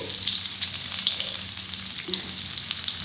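Ghee and a little white oil sizzling in a pan, a steady bright hiss with soft crackles and light stirring, close and fairly quiet with no voices.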